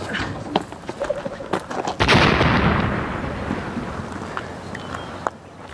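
Grenade explosion with gunfire in a film: scattered sharp shots, then a loud broad blast that rumbles and fades over several seconds, with a few more cracks afterward.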